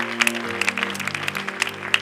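A church congregation applauding during a service: brisk, uneven clapping from many hands over a sustained organ or keyboard chord, fairly close and lively.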